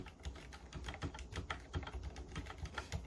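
Fingers type on an Mstone Groove T87A keyboard with silent black switches, giving a quick, fairly even run of soft, muted keystroke thumps, close up and quiet.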